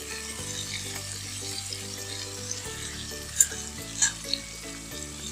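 Chicken pieces fry with spices in a pan, a steady sizzle running throughout, with a few soft clinks and stirring scrapes near the end.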